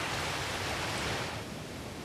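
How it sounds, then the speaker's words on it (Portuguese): Ocean surf breaking on the sandy barrier-island shore of Assateague Island, a steady broad wash of crashing water that eases slightly near the end. "As ondas que se chocam contra a costa movem a areia"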